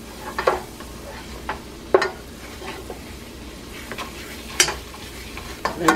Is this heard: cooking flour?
yes